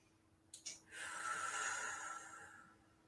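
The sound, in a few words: deep breath in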